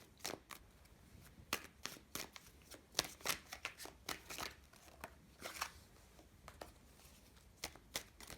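Tarot cards shuffled and pulled from a deck: a run of crisp, close riffles and slaps with quick irregular flicks, quiet and without voices.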